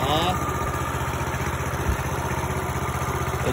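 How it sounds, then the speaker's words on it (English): A Coleman CT200U-EX 200cc mini bike engine idles steadily nearby, a loud, even, rapid putter that holds throughout. "I'm turning it back on so we can get things started up here, and she usually goes first pull"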